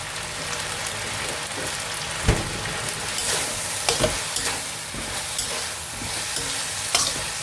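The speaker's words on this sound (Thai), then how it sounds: "ผัดให้แห้งเลยจ้าผัดให้แห้งเลยนะคะผัดแห้งนิดนึง" Spaghetti being stir-fried dry in a hot pan, a continuous crackling sizzle with scraping stirs and a few sharper clanks of the utensil against the pan, close and fairly loud, no talking.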